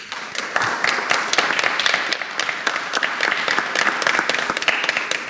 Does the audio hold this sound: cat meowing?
no